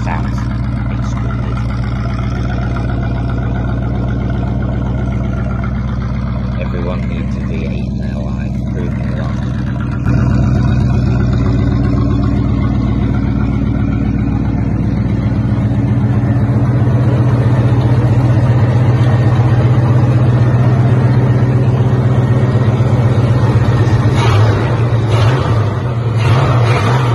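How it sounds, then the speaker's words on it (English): A 1973 Buick LeSabre Custom's V8 with its exhaust: a steady, deep engine rumble that swells louder partway through and holds at a strong, throaty drone, heard up close throughout. "If you don't like the sound of a V8, it's another engine."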